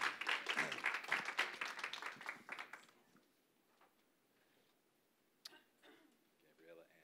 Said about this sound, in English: And we can clap to support them.